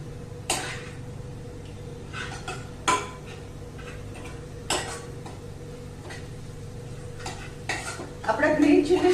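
Green chillies frying over a high gas flame in a pan, with a low steady sizzle and a few sharp spatula scrapes and clinks against the metal, the sizzle rising louder near the end.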